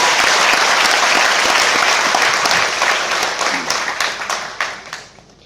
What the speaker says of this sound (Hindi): एक जोरदार ताली वेस्टीज के लिए होनी चाहिए